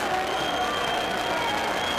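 Exuberant basketball arena crowd of about 13,000 at the Shoemaker Center, Indiana at Cincinnati college game, cheering and applauding in a steady, dense roar with continuous clapping throughout.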